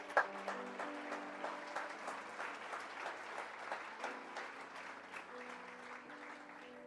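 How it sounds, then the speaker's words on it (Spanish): Audience applause in a church service after the congregation is asked to clap, steady dense clapping sustained throughout with soft music tones underneath. "Dese un fuerte aplauso."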